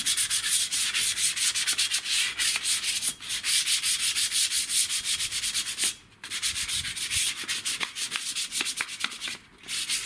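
Abrasive sanding rubs back and forth over a rusty metal garden chair, a loud close scratchy rasp in quick repeated strokes with two short pauses.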